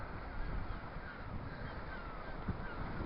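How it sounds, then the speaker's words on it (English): Seagulls call from a sea-level cave, their cries ringing out over steady wind and water noise, with one brief louder accent near the end. "I can hear the seagulls going mental down here."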